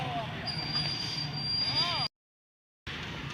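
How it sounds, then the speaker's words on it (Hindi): Pakistan Railway's newly refurbished locomotive HBU 20 8050 hauling the Mehr Express through Sanawan level crossing, a rumbling train passage with high wheel squeals and a thin whistling tone, cut by a brief silent gap. "अब mayor express HBU 20 8050 newly refurbished locomotive के साथ सनामा लेवल क्रॉसिंग में पहुंच रही है।"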